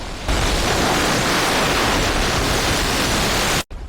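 A loud, steady rush of broadband noise like crashing surf or a huge wave, filling the clip before cutting off abruptly near the end.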